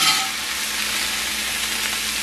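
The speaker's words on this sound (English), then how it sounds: "I'll let them sit here and saute down for a few more minutes" Green beans sautéing in a pan, seasoned with salt and pepper, give off a steady, close, continuous sizzle and crackle with no voices over it.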